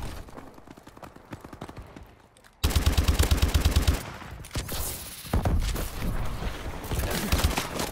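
Rapid automatic gunfire from futuristic weapons in a Call of Duty: Advanced Warfare team deathmatch, loud dense bursts with a sharp break near the middle, continuing in heavy overlapping volleys to the end.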